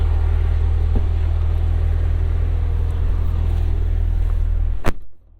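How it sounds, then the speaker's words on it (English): Cadillac CT5-V Blackwing with a supercharged pushrod V8 and six-speed manual, its engine idling with a deep, steady rumble up close before a sharp click and sudden quiet at the end. "A supercharged V8 with push rods and a proper 6-speed manual transmission"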